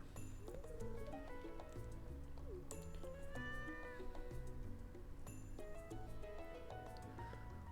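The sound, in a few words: cat named Limert meowing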